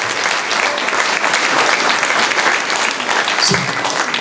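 A seminar audience applauds steadily, a dense, even wash of clapping from many hands filling the room at full volume throughout.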